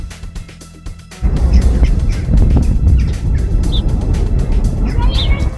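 A bird gives a few short squawking, fowl-like calls over loud, busy background noise, with voices talking nearby.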